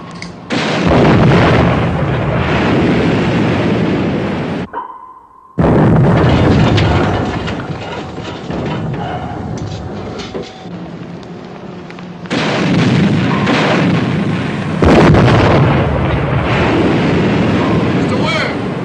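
Naval guns fire aboard a warship in a 1957 war film: heavy, loud booming blasts come in long rumbling bursts, broken by a short silence, with voices heard in between.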